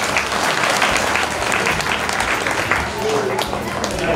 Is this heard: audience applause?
yes